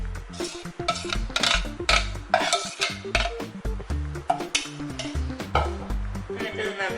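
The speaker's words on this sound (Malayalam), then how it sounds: "എന്നിട്ട് നന്നായിട്ട് ഒന്ന് ഇളക്കി കൊടുക്കണം. കൈ എടുക്കാതെ ഇളക്കി കൊടുക്കണം." Rice flour batter being stirred in a non-stick pan, a utensil scraping and knocking against the pan in quick, steady repeated strokes with faint sizzling, close and fairly quiet.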